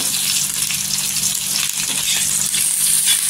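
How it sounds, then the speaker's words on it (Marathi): Chilli and garlic fry together in a small amount of oil, a steady loud close sizzle running throughout without any talking. "आणि छान अशी तेलावर परतून घ्यायची मिरची आणि लसूण एकत्र।"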